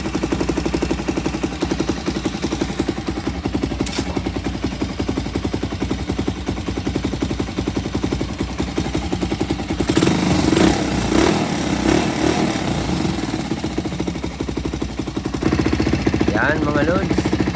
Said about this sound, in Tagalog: Nag-stable na ang idle niya. Hindi kagaya kanina na namamatay.